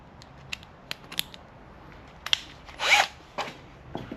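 A power driver with a T30 bit backs bolts out of a Can-Am Spyder RT, a short whirring burst among light clicks and taps, close and fairly quiet.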